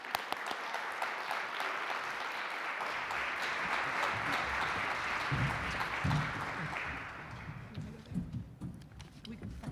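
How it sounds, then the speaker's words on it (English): A large audience at an LGBTQ+ education summit applauds drag performer Anissa Love, sustained, even clapping that swells and then thins out toward the end, with a voice coming in over the fading claps. "Please give them a round of applause."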